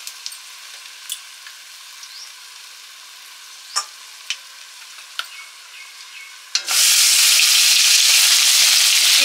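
Dried red chillies and whole cumin frying in oil: a few scattered pops and crackles, then a sudden loud, continuous sizzle erupts near the end and holds steady, with no speech.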